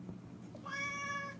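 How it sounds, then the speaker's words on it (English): A cat meows once, clear and fairly close, a drawn-out mew rising out of a faint room background; no talk over it. "Here's the other kitty cat."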